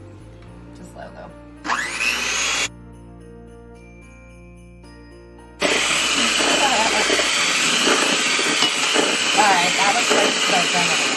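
Electric mixer whirring through cake ball batter, in a short burst, then a quieter stretch, then a long steady loud run, with someone speaking briefly near the start.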